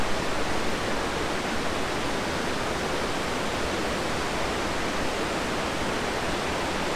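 A river at Jay Cook State Park, Minnesota, running extremely high near flood stage, roars as a loud, steady broadband rush of water with no breaks.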